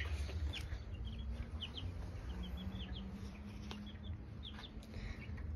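Two-week-old chicks in a small flock of about twenty, peeping and cheeping in short high chirps over a steady low background hum, fairly close and continuous.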